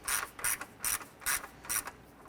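Ratcheting wrench clicking in bursts while snugging bolts on plastic radiator parts of a 2008-2012 Honda Accord, five short crisp ratchet runs at an even rhythm, close and fairly quiet.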